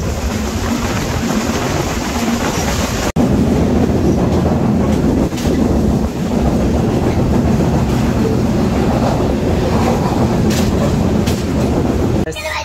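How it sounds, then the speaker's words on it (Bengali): A fast-moving passenger train runs on rails, a loud, steady rumble with clickety-clack of wheels heard close up from inside the carriage, with no talk. "একবার শুধু ট্রেনের গতি দেখেন যে কত জোরে ছুটে চলেছে।"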